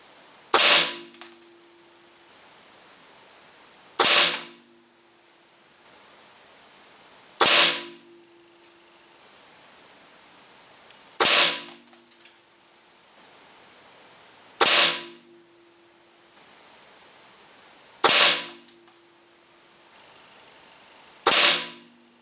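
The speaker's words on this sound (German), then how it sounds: "und zwar mache ich den Schusstest mit der Diana P1000" Seven sharp shots from a Diana P1000 S Target Hunter air rifle ring out one by one at steady intervals of about three and a half seconds, each a loud crack with a brief ringing tail.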